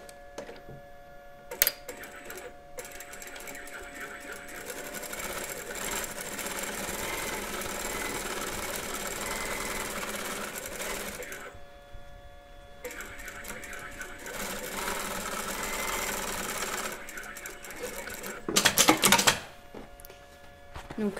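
A sewing machine stitches a canvas toile for the front panel of a skirt prototype, running in long steady bursts with brief pauses and a sharper clatter near the end, moderately close.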